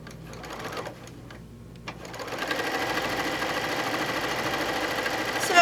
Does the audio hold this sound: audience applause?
no